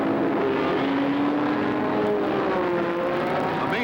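Race cars, led by the smaller-engined Dino Ferrari, roar past at the 1966 12 Hours of Sebring, a loud sustained engine drone with shifting pitch as the field passes.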